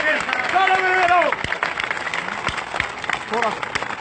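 Crowd clapping for a tribal chief at a gathering, a dense patter of applause running throughout under a voice speaking over a microphone.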